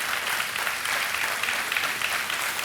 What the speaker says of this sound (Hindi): विनीता जैन के लिए तालियां